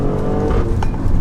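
An Alfa Romeo Stelvio Quadrifoglio SUV with a twin-turbo V6 pulls hard with traction control off, a loud, dense engine roar heard from inside the cabin that holds steady through a brief burst of acceleration.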